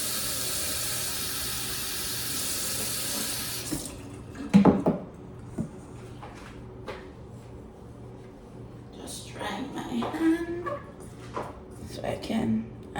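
Cold water pours steadily from a kitchen tap into a pot while Jamaican chicken soup is being made, a bright rushing hiss for several seconds, then stopping into quieter kitchen clatter and low room noise.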